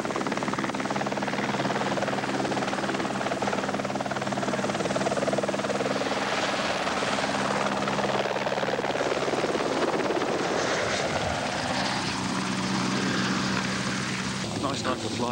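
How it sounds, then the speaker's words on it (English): A helicopter's rotor chops and whines loudly overhead at night, the engine pitch shifting as it passes and descends to land, with people talking underneath. "one of the guests drops in by helicopter"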